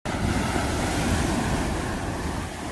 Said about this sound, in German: die Wellen sind auch ziemlich hart.